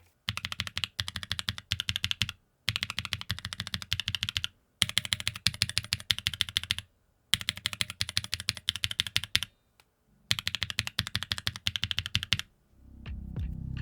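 Fast, steady typing on a mechanical keyboard with Pantheon Keys Purity tactile switches, mid-pitched clacky bursts separated by short pauses, close and clear with no talk.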